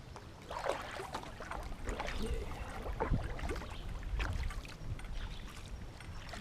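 Canoe paddled upstream on a race course, with irregular soft splashes and water swishes from the strokes, fairly close and moderately quiet.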